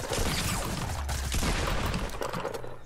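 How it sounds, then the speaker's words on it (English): Rapid, dense gunfire fills a Fortnite match, a continuous loud clatter of shots that fades slightly at the end. "I'm shooting the tree, no, I'm shooting the wall."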